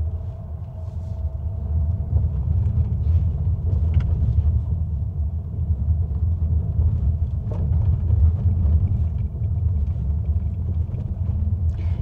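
Škoda Kodiaq 2025 SUV in off-road mode on a rough track, a steady low rumble of engine and tyres running continuously inside the cabin with faint knocks over it.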